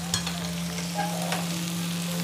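Stuffed okra (bharli bhendi) sizzles steadily in a pan while being flipped, with a few soft scrapes and clinks near the start, all over a constant low electrical hum.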